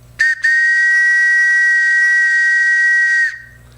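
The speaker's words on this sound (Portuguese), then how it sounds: "Esse é um apito da saudosa maquininha, né, dos passageiros. Era para alertar os passageiros para entrar ou sair do trem." An old passenger-train whistle is blown loudly up close: a short initial toot, a brief gap, then one long sustained piercing blast that cuts off abruptly.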